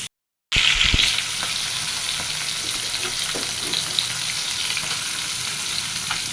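Tilapia fish hiss in hot oil in a pan: after a brief silence a sharp burst of sizzling erupts as the fish goes in, then settles into a steady, close crackle with small pops.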